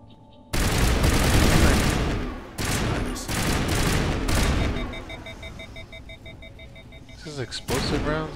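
Explosive rounds fired in the video game Mass Effect 1, with loud bursts of gunfire and booming impacts coming in dense clusters and then fading into a quieter stretch.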